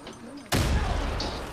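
A grenade blast in a shooter video game: after a quiet moment, one sudden loud booming burst hits at once, then a long rumbling roar that fades slowly.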